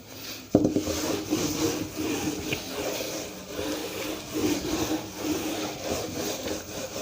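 A duster or cloth rubs writing off a classroom board in a maths lesson, giving a steady, moderately close scrubbing that starts with a sharp knock and continues in uneven strokes for several seconds, with no talk.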